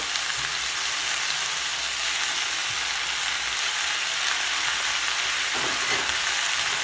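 Dumplings stir-fried in a pan with fish sauce, a steady broadband sizzle running throughout at close range, with a brief louder crackle and scrape of stirring near the end; no talking.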